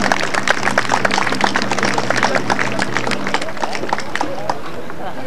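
A crowd applauds water jousters at a jousting tournament in Villeneuve-sur-Lot, a steady outdoor wash of many hands clapping with chatter and a voice over the loudspeaker mixed in.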